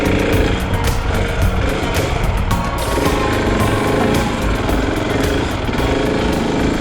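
Honda CRF300L motorcycle ridden on sand, its single-cylinder engine droning loud and close without a break, revs rising and falling under throttle.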